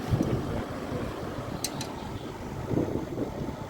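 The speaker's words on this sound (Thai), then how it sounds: "ลมค่อนข้างจะแรง" Strong wind blows outdoors during installation of a TCL 9000 BTU R32 home air conditioner, a steady rushing roar buffeting the microphone, with a couple of faint brief clicks.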